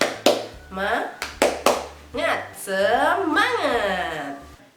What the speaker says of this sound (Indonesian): mari kita tepuk semangat terlebih dahulu